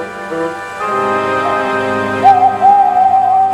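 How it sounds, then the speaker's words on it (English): An owl hoots on a moonlit night beside a lake, a clear rising tone in short repeated calls near the end, heard over a sustained musical background. "Whenever that owl hoots, a mist rolls in"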